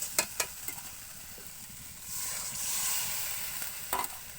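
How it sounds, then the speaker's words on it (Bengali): Spice paste frying in a pan for prawns cooked in bottle gourd leaves, with a steady sizzle that swells louder midway as a little water goes in, plus a few sharp scraping knocks near the start and end. "কষানো হয়ে গেছে, এরপর দেবো সামান্য একটু জল।"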